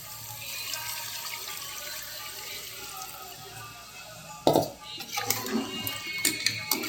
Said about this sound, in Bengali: এবার আমরা দিয়ে দেবো শেরওয়া, মানে জল।